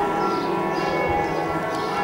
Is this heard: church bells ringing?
yes